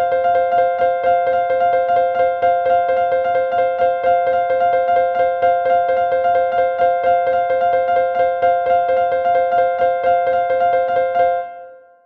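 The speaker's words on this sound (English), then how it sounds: "11 against 13 sounds like this." Two pitched clicking pulses repeat at different speeds, eleven against thirteen, weaving a busy, even polyrhythm that continues steadily then fades at the end.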